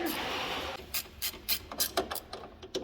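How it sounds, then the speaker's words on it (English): A 15 mm ratchet wrench backs off bolts on a turbocharged Viper. A rubbing scrape is followed by a quick series of close, sharp ratchet clicks in short irregular bursts. "we should be good with a 15 mil ratchet wrench here"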